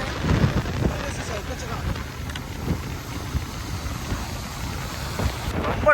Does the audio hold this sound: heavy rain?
yes